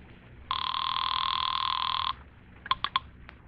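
A telephone in a radio drama rings once in a long, steady electric bell burst, followed by a few short rattling clicks, alone and fairly close.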